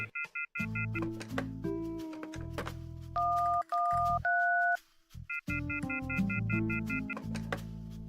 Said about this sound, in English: He dials random numbers and tries to make a call, but nothing happens.